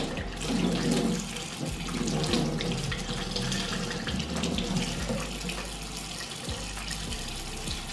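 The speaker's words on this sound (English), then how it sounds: "Just says to run it under some lukewarm water" Lukewarm tap water runs steadily from a faucet over a fresh arm tattoo in a sink, a close, continuous splashing gush with small fluctuations and no talking.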